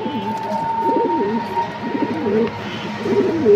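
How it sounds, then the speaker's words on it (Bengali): Lahori pigeons coo in a repeated rolling rhythm, several soft throaty calls close by against a steady background hum, with no talk over them. "এটা হচ্ছে লাহোরি কবুতর, এটাও লাল রঙের।"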